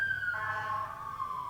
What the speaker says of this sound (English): I'm just going to wait for the noisy sirens to pass.